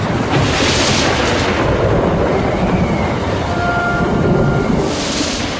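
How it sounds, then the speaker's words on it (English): Thunder from a lightning strike in a storm cloud, a loud, continuous, close rumble that rolls and swells throughout with no talk. "And at that point, lightning struck."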